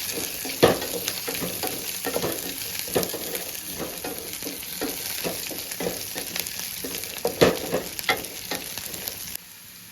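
Three chopped green chillies frying in a pan for semiya upma, a steady close sizzle with stirring scrapes throughout, no talk.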